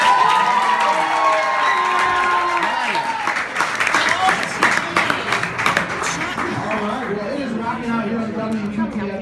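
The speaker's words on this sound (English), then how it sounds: "So give yourselves a round of applause." Tailgating crowd at a high school football gathering outside a sports bar claps and cheers, starting under a voice and swelling into scattered applause and whoops with children shouting.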